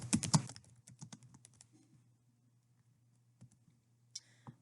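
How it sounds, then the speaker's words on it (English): Keys on a computer keyboard clatter in a quick burst of typing at the start, then thin out to scattered soft clicks over a low steady hum, with one last tap near the end. "I can go in here and continue to type as I normally would."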